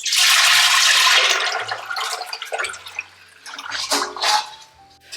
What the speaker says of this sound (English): we're gonna get it poured into this saucepan